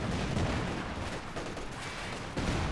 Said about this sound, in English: Oh man, that nuke grenade.